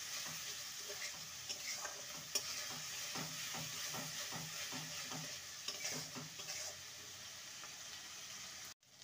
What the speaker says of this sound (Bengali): পেঁয়াজটাকে হালকা ভেজে নেব, হালকা সোনালি কালার করে।